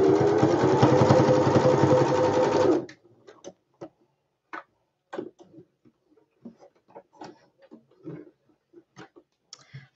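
A sewing machine stitches fabric in a continuous loud whirring run for about three seconds, then stops, leaving quiet scattered clicks and small handling noises.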